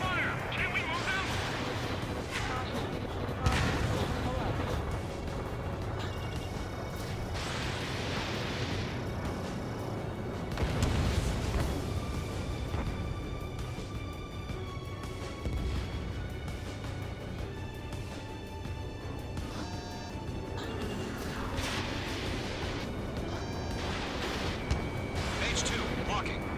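Ace Combat 7 combat plays out with bursts of gunfire and booming artillery over a constant roar of jet engines, dense and layered, with radio chatter voices talking throughout.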